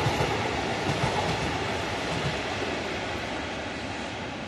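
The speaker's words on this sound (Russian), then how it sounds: "Электричка едет." An electric commuter train (elektrichka) rolls past near Churilovo in Chelyabinsk, a steady broadband rumble of wheels and cars at close range, holding constant throughout with no voices.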